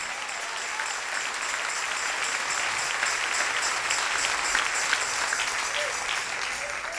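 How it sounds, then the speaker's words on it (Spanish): A church congregation applauds steadily during a Sunday morning service, a dense, even wash of clapping held at a constant level throughout, with faint voices mixed in beneath it. "Dale ese aplauso al Rey en esta linda mañana."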